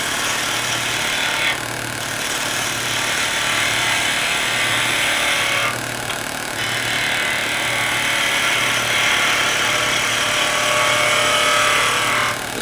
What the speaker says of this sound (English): This is a Skew Chisel with that radius tip, the one I started to use a minute ago.